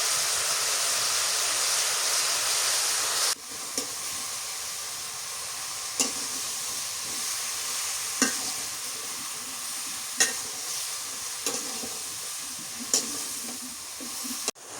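Garlic and onion paste sizzles steadily in a hot pan, with a stirring scrape roughly every two seconds cutting through the constant hiss of the frying.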